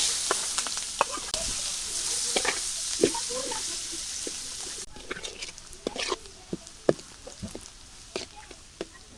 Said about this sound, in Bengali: এই তেলের মধ্যেই আমি পেঁয়াজ কুচি দিয়ে দিলাম